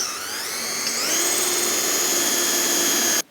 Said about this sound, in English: Having drilled those holes through from underneath